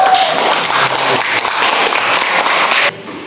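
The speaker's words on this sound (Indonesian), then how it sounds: "tepuk tangan dulu buat Mbak Hilda ya" A classroom audience claps for a student in a dense, steady burst of applause lasting a few seconds, then it drops off abruptly.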